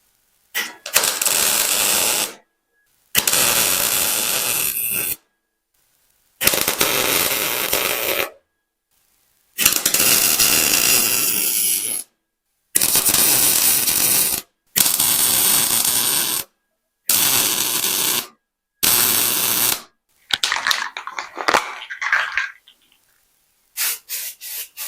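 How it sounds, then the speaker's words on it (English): Steel pieces of a transmission bench fixture being welded give about eight close, harsh crackling bursts of a few seconds each, separated by short silent pauses, with no talking. "So I'll weld these in"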